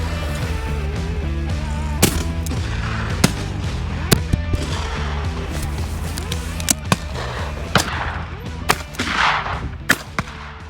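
Several sharp shotgun blasts ring out while shooting clay targets outdoors, spaced irregularly over a constant loud droning background, with a cluster of reports near the end.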